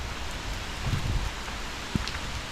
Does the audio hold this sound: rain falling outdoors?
yes